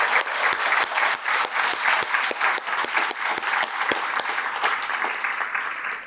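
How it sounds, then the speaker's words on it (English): A university event audience breaks into steady applause, with dense, sustained clapping from a sizable crowd. It sounds fairly close and full, with no talk over it, and tapers slightly at the end. "give them a big round of applause for what they do for the university"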